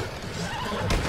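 A horse in the video game Red Dead Online lets out a loud, close whinny lasting about a second, with no talk over it.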